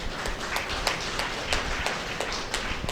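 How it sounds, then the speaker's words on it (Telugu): An audience at a meditation gathering claps together in a steady, even round of applause that fills the room throughout. "చప్పట్లు కొట్టండి అయితే దాన్ని."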